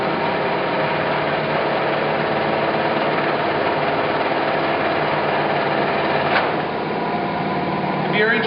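A Clausing Colchester 1780 17-inch by 80-inch engine lathe with a three-jaw chuck runs steadily nearby, a continuous mechanical drone that holds at an even level throughout.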